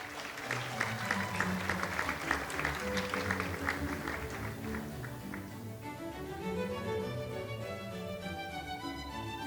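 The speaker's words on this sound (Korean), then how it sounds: "여러분 따뜻한 박수로 맞이해 주시기 바랍니다." Applause from the audience at the opening ceremony of an international conference, crisp clapping over the first half that thins out as a sustained musical passage with held tones takes over.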